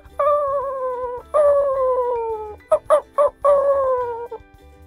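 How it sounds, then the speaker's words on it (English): A cartoon puppy, larger than usual pups, cries in long wavering howl-like wails, then several short sobbing yelps, loud and close with no talk. "No, seriously, I think there's a pup crying."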